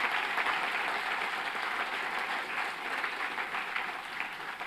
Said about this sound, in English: Now I would like to request the audience to please give a hand of applause for all the students.